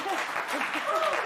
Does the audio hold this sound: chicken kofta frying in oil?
no